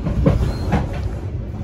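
Banyubiru passenger train running on rails between Semarang and Solo, a brief loud rumble with rhythmic wheel clacks close by.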